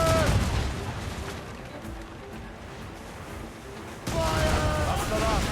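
Ship cannon volleys boom out in a naval battle in the video game Assassin's Creed Rogue, loud heavy blasts at the start and again near the end, with a quieter rumbling lull between them.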